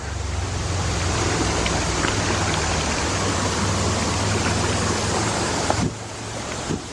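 A river rushes steadily as hikers cross it, a loud, constant broadband wash of flowing water that drops off slightly just before the end.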